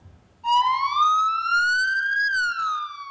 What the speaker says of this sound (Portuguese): O toque da sirene aciona as equipes